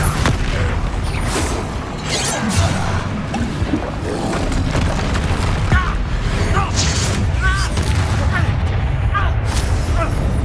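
Bombarda explosion spell cast in combat in the Hogwarts Legacy video game, dense booms and crashes layered in a continuous loud battle mix without speech.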